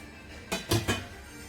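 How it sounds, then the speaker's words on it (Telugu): A lid is set onto a cooking pot of sauce for cabbage manchurian, giving three quick, close metallic clanks in a row, followed by quiet. "మూత పెట్టేస్తాను."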